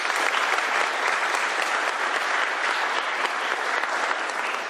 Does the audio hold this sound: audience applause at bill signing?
yes